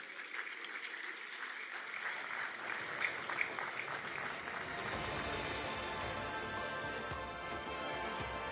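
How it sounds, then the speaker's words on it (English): An audience at a conference applauds for a presidential session of Afreximbank's annual meetings, with dense, sustained clapping that swells and stays steady, and no talk over it. "I want you to give a robust Pan-African round of applause for Mr. George Elombi."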